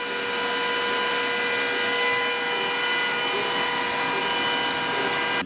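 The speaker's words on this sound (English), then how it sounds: "this is the sound of the machine when it's actually engraving or cutting" A Glowforge laser cutter engraving or cutting, with its integrated fan roaring in a constant broad rushing whoosh like a vacuum cleaner, close and steady with no voices.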